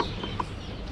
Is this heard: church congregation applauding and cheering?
no